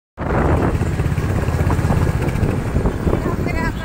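A motorcycle ride through city streets, the engine droning loudly and steadily with heavy wind rush buffeting the microphone throughout.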